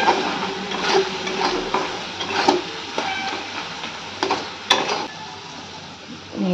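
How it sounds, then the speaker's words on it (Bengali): Spices frying and being stirred in a pan for bhetki curry: a steady soft sizzle with scraping spoon strokes and light clinks against the pan, close and fairly quiet. "নিজে লঙ্কা গুঁড়ো, ধনে গুঁড়ো আর হলুদ গুঁড়ো, এটা দিয়েও একটু কষিয়ে নেব।"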